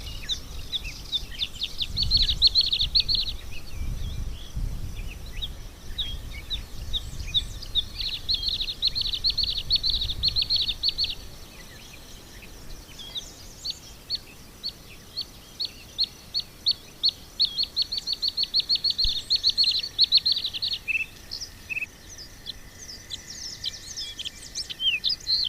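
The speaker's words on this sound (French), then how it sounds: "Le mâle délimite alors son territoire et chante du haut d'un arbuste" A male bird sings from the top of a shrub on Île de Ré, loud, varied rapid phrases in repeated bursts separated by brief pauses, close and clear over a low outdoor rumble.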